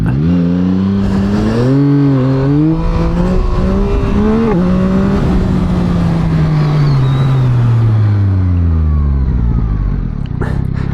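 2024 Yamaha MT-09 SP motorcycle revving hard as it accelerates into a wheelie, with the engine note climbing through rising pitch sweeps, dipping between shifts, then falling away. Very loud, close and mixed with wind roar.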